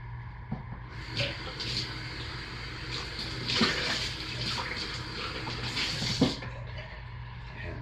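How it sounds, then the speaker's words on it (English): Lye water is poured steadily into oils for lemon-scented soap making, a soft continuous trickling and splashing of liquid into a container, fairly close, with a few clinks and bumps along the way and no talking. "So I will start by carefully pouring the lye water into the oils."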